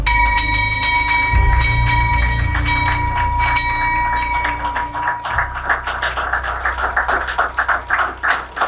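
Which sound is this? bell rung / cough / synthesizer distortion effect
bell rung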